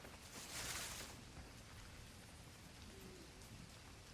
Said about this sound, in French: J'avais oublié que l'orage dans cette map